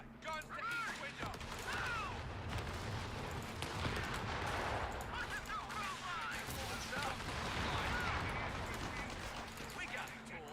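Heavy gunfire in a real-time war video game as soldiers hold a building with guns at each window: dense, continuous bursts of shots and clattering impacts, loud and sustained throughout, mixed with shouted voices and battle noise.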